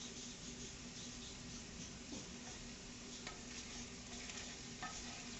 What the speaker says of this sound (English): I've got it cooking here. So we're going to stir this up a little bit